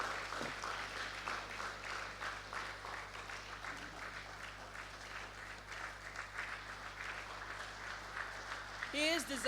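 At a stakeholders' validation session on a draft national policy, an audience claps in a fairly quiet, steady patter that continues for several seconds, with murmured voices underneath.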